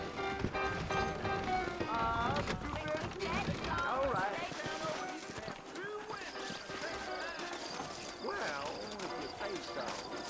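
Horses moving in the video game Red Dead Redemption, with a busy clatter of hooves and game sounds playing under ongoing character dialogue and music.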